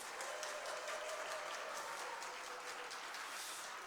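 Church congregation applauding and cheering for a tenor at a charity mission concert, a dense, steady wash of clapping held at even loudness throughout, with faint cheers mixed in and no speech.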